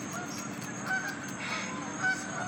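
A goose tangled in fishing line honks during a rescue on a boat in New York City, a few short honks over steady background noise.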